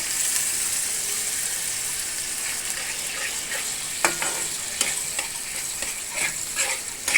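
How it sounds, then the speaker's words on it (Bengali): Coconut paste sautés with coconut milk in a pan, giving a soft, even sizzle, later joined by several sharp spatula scrapes and taps, close with no talking. "আমি প্রথমে নারকেলটা ভালো করে কষায় নিচ্ছি"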